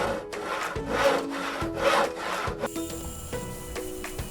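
A scroll saw cuts through wood in steady rasping strokes, loud and close, then eases into a quieter buzzing hum with light scraping.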